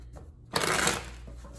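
A short burst of tarot cards being riffled and shuffled, crisp papery flutter lasting about half a second, close by with a faint background hum.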